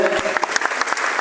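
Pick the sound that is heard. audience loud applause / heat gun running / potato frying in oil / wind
audience loud applause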